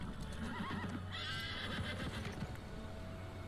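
A horse in World of Warcraft whinnies loudly with a rising, shaky neigh, over steady clip-clop of hooves and a low continuous game background hum.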